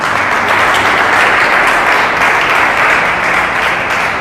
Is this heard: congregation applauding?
yes